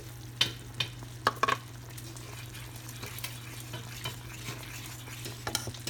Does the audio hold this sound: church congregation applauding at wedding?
no